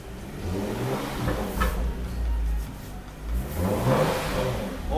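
A Hyundai Genesis Coupe 3.8 engine with stock exhaust revs up and settles twice nearby, a deep, throaty rumble with moderate exhaust tone rising and falling.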